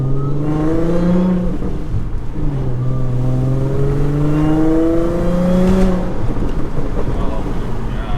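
A close, loud Audi B8.5 S4 engine revs and pulls hard in an interior recording, its tone climbing and dropping through gear changes over several seconds. The car has an EPC light and a misfire fault.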